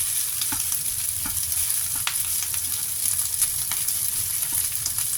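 Rice with leftover larb and an egg being stir-fried in a pan, a continuous close sizzle broken by quick scraping strokes of a spatula, no talking.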